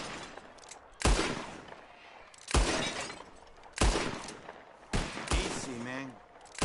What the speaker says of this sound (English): Whoever shoots more of these bottles wins.